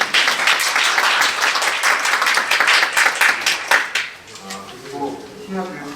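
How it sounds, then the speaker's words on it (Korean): Audience clapping at a dental education accreditation briefing in Korea, dense applause for about four seconds before it thins out and fades under quieter room sounds. "큰 박수."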